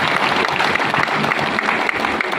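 Loud, dense clapping from a crowd at an outdoor Congress party election rally, many hands beating together in a steady, close wash with no talking on top.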